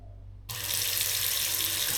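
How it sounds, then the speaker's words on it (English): Running water suddenly starts and keeps flowing in a steady, hissing rush from a strong-pressure rainfall shower in a guesthouse bathroom in Canggu, Bali, close and continuous after a quiet moment. "The rainfall shower with strong water pressure and reliable hot water"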